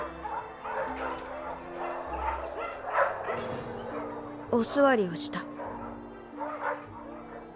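Dogs in a noisy dog pound in a film scene bark and yip intermittently, with a sharp, rising yelp near the middle, while a narrator speaks in Japanese over background music.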